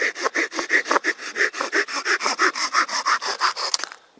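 A Silky Pocketboy compact folding saw cuts through a piece of firewood in about twenty quick, even back-and-forth strokes. The rasping is close and loud, and it stops abruptly at the end.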